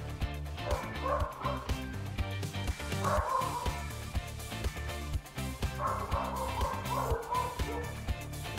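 Pet dogs barking and yipping off-mic in a home during a live coding stream, several bursts of excited barks, moderately loud with a steady low hum beneath.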